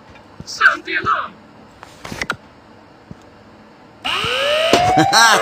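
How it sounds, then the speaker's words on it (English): An alarm blares in the horror video game Ice Scream 8, a loud sweeping tone that starts partway through and holds steady to the end, after brief bursts of talk. "Sound the alarm."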